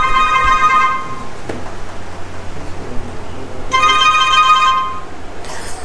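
A mobile phone ringtone plays during a civil engineering class, a bright repeating tonal melody that sounds for about a second, pauses, then rings again near the end over a steady room hiss.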